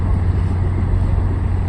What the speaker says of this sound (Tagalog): Pumutok na yung makina.